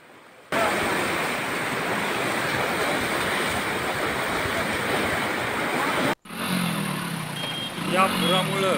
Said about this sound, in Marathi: अचानक झालेल्या ढगफुटी पावसामुळे या नदीला प्रचंड पूर आला